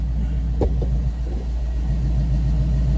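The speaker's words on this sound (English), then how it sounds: "That's the easiest cold start I've ever had on this thing." A 1978 Pontiac Firebird engine with FiTech fuel injection idles just after a cold start, a loud, steady low rumble close by with a single sharp click near the start.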